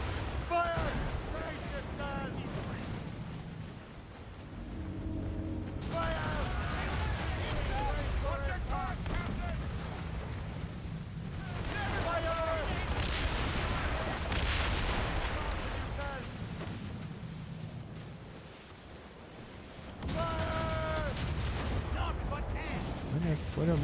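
Mortar fire in Assassin's Creed booms repeatedly in heavy, rumbling blasts, mixed with gunfire, and voices talk over the bombardment.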